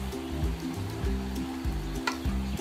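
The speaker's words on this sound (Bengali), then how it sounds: "আমি সব মশলাগুলো মিশিয়ে ভালো করে এটাকে নেড়ে দিলাম" A spiced khichuri mixture is stirred in a pan over the heat, a steady low scraping and sizzle running close and continuous for a few seconds, with a brief sharper clink partway through.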